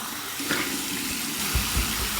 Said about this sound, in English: All right, here is my cold water rinse.